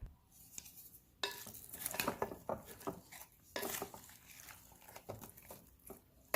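A spoon scraping and clanking inside a pot of lamb stew, with irregular bursts of metallic stirring and knocks up close.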